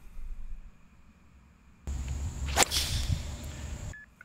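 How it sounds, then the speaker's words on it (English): A golf ball struck with a one iron on a course: a quiet lull, then a sharp swooshing swing and crisp impact, followed by a fading airy rush. "I'm gonna hit a one iron"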